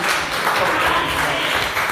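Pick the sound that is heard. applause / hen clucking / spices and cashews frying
applause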